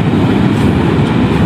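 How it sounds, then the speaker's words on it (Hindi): A large cargo train passes near a railway station, producing a loud, continuous low rumble with faint clickety-clack of wagons on the rails and no voices. "अभी हम खड़े हुए थे तो ट्रेन भी आ गई, ये बहुत बड़ी ट्रेन है"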